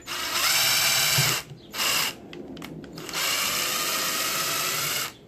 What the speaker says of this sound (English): And I literally drill it inside.